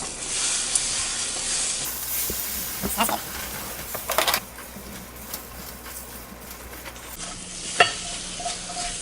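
Eggs sizzle and hiss steadily in a warm pan, with a few scrapes and taps from a small spatula stirring them, the frying noise fairly close and continuous with no talk.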